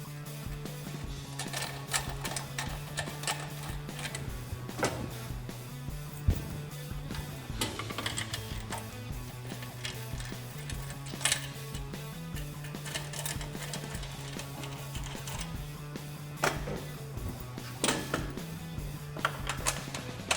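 Bolts are fitted into the front bracket of a Toyota Tacoma side step bar, heard as a steady mechanical whirr from a power tool with repeated clicks and metallic ticks over about twenty seconds.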